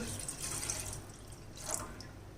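Cream milk poured from a measuring cup, a faint, steady liquid trickle and splash lasting a couple of seconds, quiet and close with no talk.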